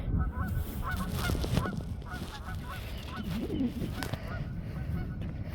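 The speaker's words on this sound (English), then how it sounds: "And Canadian geese was just honking, actually." Canada geese honk repeatedly outdoors in a flock, a steady scatter of nasal calls at moderate distance over continuous background noise, with no talking.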